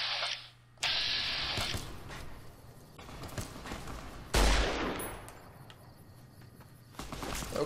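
Loud gunshots from a survivalist rifle in Fallout: New Vegas crack out in a few separate bursts, each followed by a decaying echo, with quieter ambient game noise in between.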